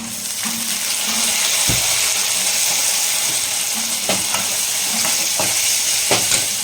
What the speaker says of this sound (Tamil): ஆனியன் நல்லா வதங்கிடுச்சுங்க. இந்த டைமில் தக்காளி சேர்த்துக்கலாம்.